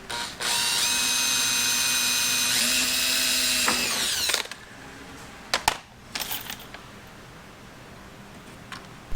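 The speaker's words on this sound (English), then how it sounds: "Don't buy this rivet gun. I mean, it works, but the rivets get stuck every single time." A rivet gun sets rivets on Camaro side rockers, starting with a loud, continuous mechanical ratcheting whir for about four seconds, then a few sharp clacks and short rattles close by.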